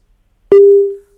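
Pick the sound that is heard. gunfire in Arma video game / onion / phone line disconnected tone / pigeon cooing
phone line disconnected tone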